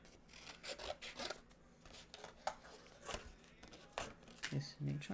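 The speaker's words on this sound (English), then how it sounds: "Those are good scissors." Scissors cut paper for a collage in a series of short, uneven snips and rustling rubs, close and fairly quiet, with a voice talking between the cuts.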